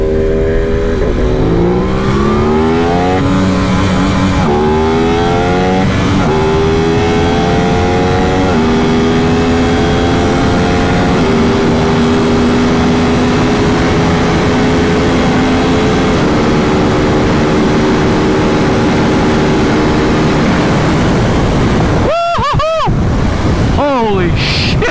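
An Aprilia RS 660 sport bike accelerates hard up through the gears on twisty canyon roads, engine pitch climbing and dropping at each shift under steady wind roar, with brief shouting near the end.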